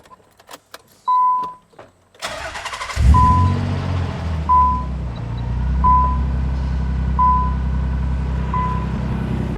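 A Nissan 300ZX engine cranks and fires after an oil change, then settles into a steady low idle, close by. A repeating electronic beep chimes over it, and keys jangle briefly before the start.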